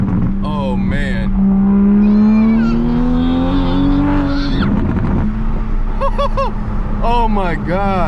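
Loud revving and accelerating from a Toyota Supra fitted with a Tomei titanium exhaust, the engine tone rising steadily and then dropping, recorded close from inside the car. Excited voices talk over it throughout.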